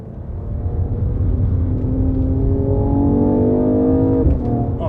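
A Mercedes-AMG CLS 53 engine pulls hard through the gears, its loud, close rising drone climbing in pitch with each run and dropping briefly at a shift near the end.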